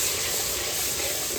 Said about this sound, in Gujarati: નાખી દીધું પાણી